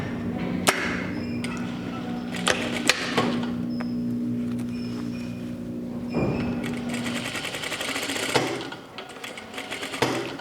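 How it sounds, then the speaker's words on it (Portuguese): Sewing machine stitching linen fabric for a blouse, running in close, loud bursts of rapid steady whirring with pauses, clicks and knocks between the runs. "E agora eu vou costurar."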